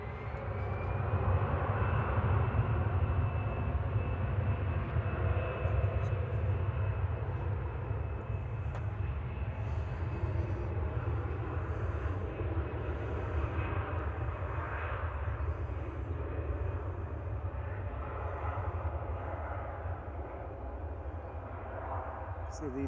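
An EasyJet airliner bound for Tenerife South departs runway 05 left at Manchester Airport, a steady, loud engine roar that holds for over twenty seconds at a distance, with faint talk underneath.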